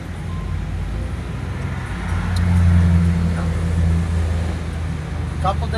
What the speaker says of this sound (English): We got a car coming up on our left here.